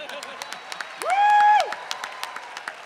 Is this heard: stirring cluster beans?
no